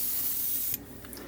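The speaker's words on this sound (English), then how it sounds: "I'll spray like this, and I'll turn it 90 degrees" A spray can hisses steadily as paint is sprayed onto a model ship part, one close continuous burst that stops abruptly, followed by faint quiet.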